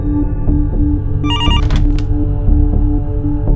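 A telephone rings in a Kannada film scene, its electronic trill bursting once loudly over a steady low hum and rhythmic background thumps.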